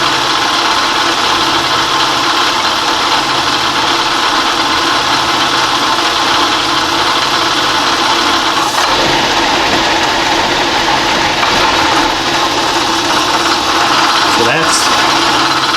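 A metal shaper cuts serrations into aluminum vise jaws with a steady, loud mechanical drone and hum, broken by a couple of brief knocks, while someone speaks a word at the start.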